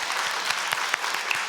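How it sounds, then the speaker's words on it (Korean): A church congregation at a Sunday service gives welcoming applause, a dense, even wash of many hands clapping, moderately loud and continuous throughout, with no talking on top. "우리 박수로 환영하도록 하겠습니다."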